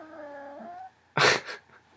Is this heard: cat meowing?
yes